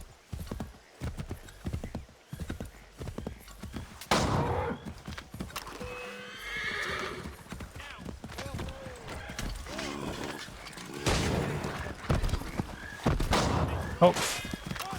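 Rhythmic clip-clop of horse hooves with a horse neighing in Assassin's Creed 3, game sound effects and occasional gunfire bursts, and a voice talking at times.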